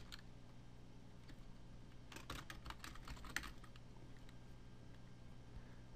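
Quiet, close clicking of keys on a computer keyboard, a short burst of rapid typing in the middle against faint background hum.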